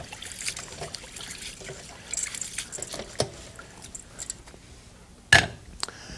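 Water drains from a colander after rinsing basmati rice in a kitchen, giving soft trickles and dribbles with scattered small clatters and one sharp knock near the end.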